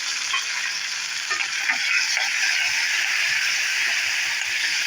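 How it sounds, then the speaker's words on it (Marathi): Tomato dropped into a pan of browned onions and spices for drumstick sabji, with a constant close sizzle of frying and soft scraping of a spoon stirring throughout, no talking. "आपण टमाटे टाकूया."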